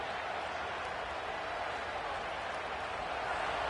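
A stadium crowd at a football game roars in a dense, continuous wash of cheering and noise, steady and loud from start to finish.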